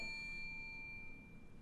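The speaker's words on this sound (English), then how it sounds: "Ding, ding goes the bell" A bell's ding fades out as a thin, sustained metallic ring over quiet background noise.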